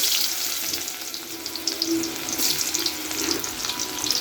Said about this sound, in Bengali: এখন আমি চুলাতে কিছু পেঁয়াজ কুচি ছেড়ে দেব